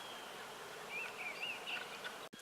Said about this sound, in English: it's just these bees foraging on these little bitty flowers